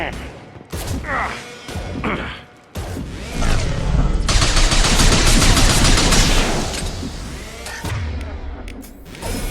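Gunfire in Mass Effect 2: loud sustained automatic weapon bursts and impacts during a firefight, with a few short shots early on building into a dense, continuous barrage in the middle.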